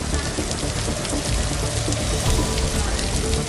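Torrential record-breaking monsoon rain pours down in Saurashtra, Gujarat, a dense, steady hiss of drops drumming on surfaces, loud and unbroken with no voices.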